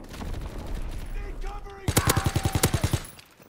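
A Type 100 submachine gun fires in Call of Duty: WWII, a rapid automatic burst of evenly spaced loud shots lasting about a second, preceded by game ambience and faint voices.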